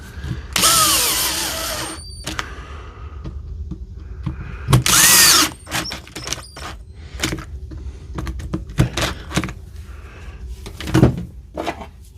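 A DeWalt DCD470 cordless drill whirs loudly in two bursts during a handle and chuck repair, with scattered clicks, knocks and handling noises of tools and parts around and between the runs.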